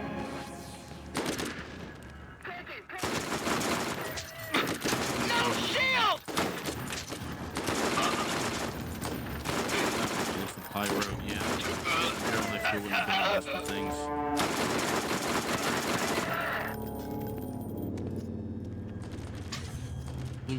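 Dense, continuous gunfire with sharp ricochets crackles through a chaotic Borderlands firefight, with rapid bursts and metallic zings layered under game music and effects for most of the stretch.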